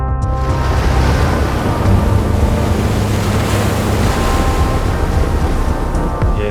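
Artificial waves churn in a wave-making tank on a film set staging a calm, realistic sea. The water produces a dense, continuous wash at a steady loudness throughout, with no voices.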